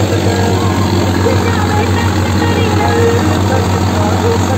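An Arjun Novo tractor engine drives a reaper in fifth gear, a steady loud diesel drone with a constant low hum and mechanical whine running throughout.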